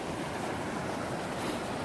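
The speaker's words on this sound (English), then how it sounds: "The only problem with being near a raging river is that it's bloody noisy." A raging river beside a snowy camp near Bansko, Bulgaria: a constant loud broadband roar of rushing water, close and unbroken, with no voices.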